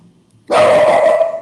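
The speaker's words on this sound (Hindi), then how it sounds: "पीछे एक कुत्ते के भौंकने की आवाज़ है," A dog barks once, loud and close, in a single sharp sustained bark that cuts in abruptly after a quiet moment, with no voices.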